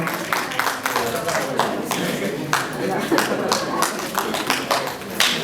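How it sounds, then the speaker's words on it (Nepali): Audience applause at an award ceremony, a dense, continuous patter of many hands clapping close by with a few sharper individual claps, with voices mixed in. "जोरदार तालीले उसलाई प्रदान गर्नुहोला।"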